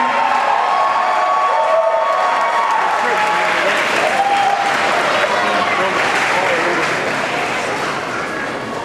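Loud, sustained clapping and cheering from a large audience at a Power Rangers convention panel, Power Morphicon 2012, filling the room throughout before fading slightly toward the end.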